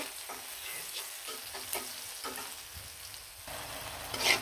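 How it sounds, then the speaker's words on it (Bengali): Finely chopped onions frying in hot oil in a pan, with a soft, fairly quiet sizzle broken by scattered spatula stirs and scrapes. "পেঁয়াজগুলো কিন্তু ভাজা ভাজা হয়ে গেলে গরম মশলা দিয়ে দিব"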